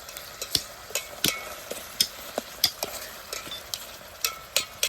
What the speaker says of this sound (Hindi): हम लोग वेजिस को अपना फ्राई करते हैं, इसको ब्राउन होने तक फ्राई करते हैं